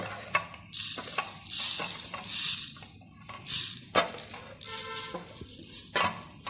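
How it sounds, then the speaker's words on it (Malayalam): Masala powder frying in a small pan, with stirring scrapes and bright sizzling bursts that rise and fall in short waves, close and clear with no voices over it. "അപ്പോൾ നമുക്ക് ഇത് വറക്കാനായിട്ട് ഇടാം ഒരു ചെറിയ ചീനിച്ചട്ടിയിൽ"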